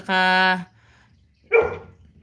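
A dog gives a long, tonal yelp or howl, then after a pause a short sharp bark, close by.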